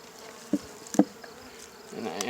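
Honeybees buzz faintly around a brood frame being set into a mating nuc, with a couple of brief knocks from the frame handling and a soft hum rising toward the end.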